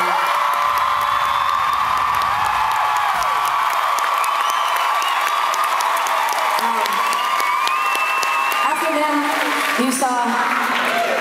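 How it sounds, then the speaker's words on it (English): A large indoor concert crowd at the Royal Oak roars with applause, cheers and whoops for the band, loud and continuous, with scattered shrill shouts and an amplified voice ringing over the din. "I'd like you to try to bring down this roof, giving them the hugest applause you have inside of you"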